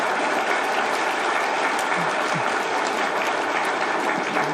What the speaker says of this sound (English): I thought I deserve an applause for that.